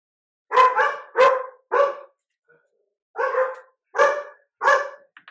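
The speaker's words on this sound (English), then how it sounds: "They're excited because there's a visitor." Dogs bark excitedly at a visitor indoors, with three quick barks, a short pause, then three or four more sharp barks, loud and close, and no other sound between them.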